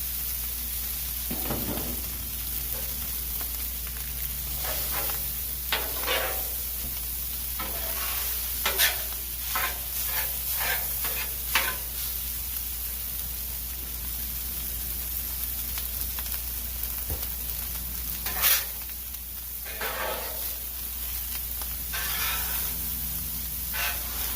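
Raw rice sizzling on a Blackstone griddle for a hibachi meal, a steady hiss with intermittent scraping stirs of a spatula, continuous and close with no talk.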